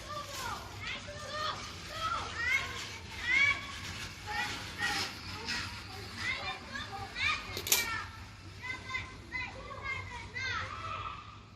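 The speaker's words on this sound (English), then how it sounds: "we have some kids playing outside so you can hear them" Children play and shout outdoors on a warm day, their overlapping high voices and squeals steady and moderately distant throughout, with no adult speech.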